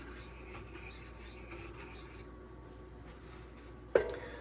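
A Spyderco Sage 5 knife blade drawn across a Rex121 sharpening stone, giving steady, close rasping strokes that run continuously, then one sharp click near the end.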